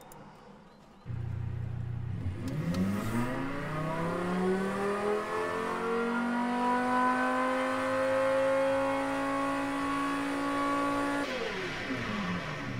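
A car engine in the video game Automation rises steadily in pitch as it revs up and holds a high whine before cutting off abruptly.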